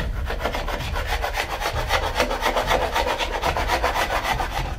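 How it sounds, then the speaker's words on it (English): Dried glue is scraped off glued-up wooden panels in a woodworking shop, a loud rhythmic rasping with rapid, evenly spaced back-and-forth strokes continuing throughout, close and with no voices. "I remove the dried glue."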